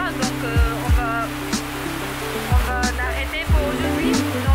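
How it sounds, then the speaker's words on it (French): Heavy rain falls in the mountains of Japan in August as a constant broadband wash, heard beneath music. "Il a vraiment commencé à pleuvoir"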